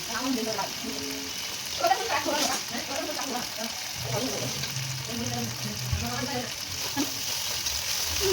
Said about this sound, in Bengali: এখন এখানে দিয়ে দেব আমি হলুদ, স্বাদ মতো নুন দিয়ে ভালো করে মশলাটাকে ফ্রাই করে নিতে হবে।